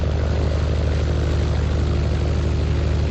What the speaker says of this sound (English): Now that the motor's running, we can get in there and actually drive the thing.